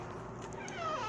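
A house cat meows indoors, a single drawn-out rising call near the end over steady room noise, fairly close.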